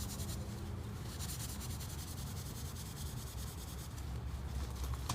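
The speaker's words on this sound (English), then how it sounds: "I'm going to fluff it up, give it as much surface area as possible" A paper napkin is fluffed and loosened by hand as fire tinder, giving a steady, close rubbing and crinkling that continues without pause and without talk.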